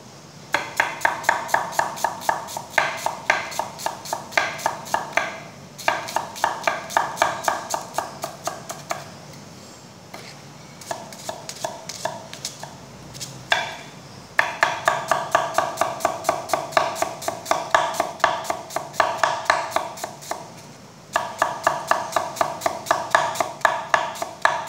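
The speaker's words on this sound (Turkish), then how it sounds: "Öncelikle soğanımızı doğrayalım" Rapid, rhythmic knife taps on a cutting board chopping onion, in bursts of quick even strokes separated by short pauses, close and crisp, no talking.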